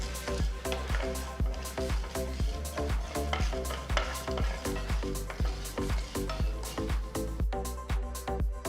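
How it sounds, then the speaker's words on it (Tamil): Continuous sizzling and crackling of mustard seeds, cumin and lentils roasting in a hot pan, with frequent scraping and stirring clinks throughout. "ஒரு டீஸ்பூன் கடுகு ஒரு டீஸ்பூன் சீரகம் இதெல்லாம் சேர்த்து நல்லா வறுத்துக்கலாம்"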